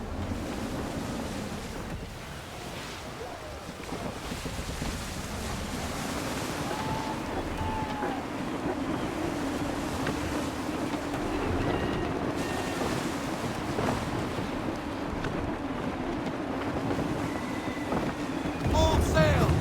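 Steady wind and rolling ocean waves surround a sailing ship at sea in Assassin's Creed, a continuous rushing bed with gusts and creaking, while a voice talks over it at times.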